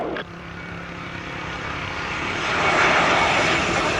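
An airliner's engines roar at Montego Bay airport in Jamaica, a loud steady jet rumble and whine that swells gradually as the aircraft moves, with no talk.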